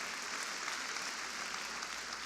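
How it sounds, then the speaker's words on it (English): Audience applause at the National Urban League's 2017 State of the Urban League conference address: a dense, steady clapping that fills the hall evenly throughout, with no voices over it. "another big round of applause"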